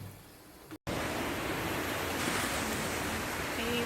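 Surf rolling onto a beach in Mumbai, a steady broadband wash of breaking waves with some wind noise, continuous and fairly close after a brief dropout near the start.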